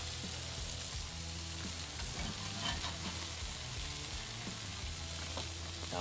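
Smoked salmon grilled cheese sandwich sizzling with butter on a hot grill, a steady close frying hiss running throughout with a few light scrapes and clicks from handling.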